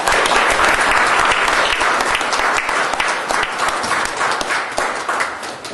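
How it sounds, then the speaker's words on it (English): A large audience applauds warmly at a lecture event, a loud, dense wash of clapping that holds steady throughout with no talk over it. "Please give him a round of applause."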